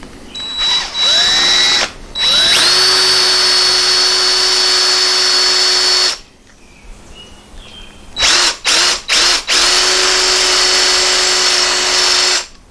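A power drill whines steadily at high speed into a hard steel pedal pin from a Porsche 912, pausing briefly, then grinding again in several short bursts before running continuously; loud and close.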